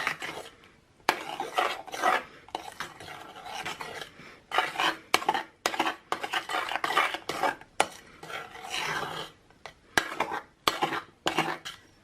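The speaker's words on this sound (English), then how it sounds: "we'll pour over the cooled raspberry puree and fold it through until it's completely incorporated" Cooled raspberry puree being folded into a mixture in a bowl, with repeated soft scraping and stirring strokes of a utensil against the bowl in irregular bursts, close and moderately loud, no talk.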